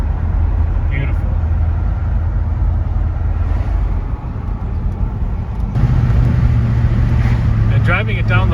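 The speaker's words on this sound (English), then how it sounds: "And driving it down the road here, just so smooth" A 1968 Ford car cruises down the road with a steady low engine and road rumble throughout, heard beneath someone talking.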